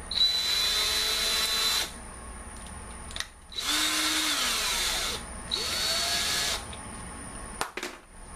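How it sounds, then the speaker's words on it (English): A power screwdriver tightens a hose clamp on a homemade surfboard bike rack. It whirs loudly in three long runs with brief stops between them, and its pitch drops under load as the clamp cinches down, ending in a few short clicks. "tighten the hose clamp to as tight as you can get it with a screwdriver, which is equal to about 14 on my torque setting"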